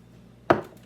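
A single knife chop through onion lands with one crisp, close thud on a cutting board, alone against quiet background.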